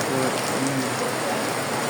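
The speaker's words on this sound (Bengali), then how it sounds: "পানি জমেছে অনেক বৃষ্টি হচ্ছে" Heavy rain falls on waterlogged ground in Bangladesh, a close, constant rushing patter filling the whole moment, with a faint voice briefly audible beneath it near the start.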